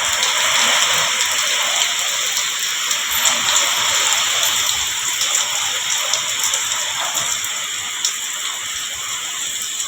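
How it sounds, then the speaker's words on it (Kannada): Steady rain hisses down continuously at an even level, a soft wash of drops with no voices or other distinct sounds. "ಮಳೆ ಬಂತು ನೋಡ್ರಿ, ಈಗ ಸಣ್ಣಗೆ ಬರಾಕತ್ತೈತಿ"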